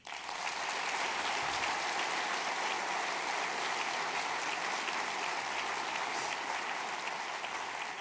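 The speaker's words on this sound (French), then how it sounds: "Je pense même que nous pouvons les applaudir." An audience at a mayor's New Year address breaks into loud, dense, sustained applause. The clapping is continuous and even, like rain, and carries no speech.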